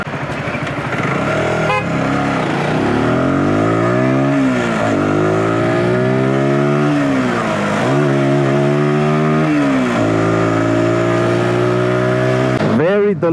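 Zontes G125 motorcycle pulling hard under acceleration, a loud buzzy engine climbing in pitch through several gears, dipping briefly at each shift before rising again, close and dominant throughout.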